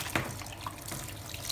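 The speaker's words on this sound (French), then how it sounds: "Je rince aussi mes doigts" Fingers rinsed under a running tap at a darkroom sink after bleaching a photographic print, a steady close splash of flowing water with no talk.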